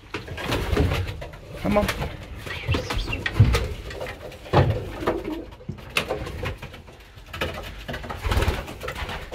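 Pigeons coo steadily inside a crowded pigeon loft with newly added hens, soft low throaty calls overlapping throughout, along with wing flutters and shuffling; someone speaks briefly over them.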